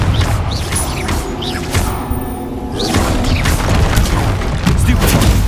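Confringo blasting spell in the Hogwarts Legacy video game: loud, booming explosions and crashes in a busy fight, layered with whooshes and clattering debris, with a voice shouting over the din.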